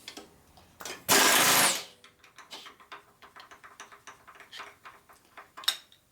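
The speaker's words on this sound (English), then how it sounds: "Someone's got to sand them though." Hand sanding of Harley-Davidson Panhead or Shovelhead rocker arms during an engine rebuild, with one loud, sustained burst of abrasive scraping followed by a run of short, quieter rubbing strokes and small clicks close by.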